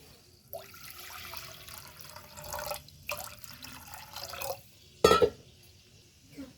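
Water poured into sour buttermilk in a pot while making a bottle gourd dhokli curry, a close, brief splashing pour that ends in a louder burst of liquid.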